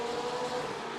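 A race car in a sim racing game accelerates hard out of a corner at Silverstone, a steady high engine whine held at constant loudness for about a second with no other sounds.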